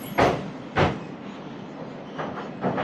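A train passes near a bridge, with several sharp clattering thumps spaced a second or so apart over a soft continuous rumble.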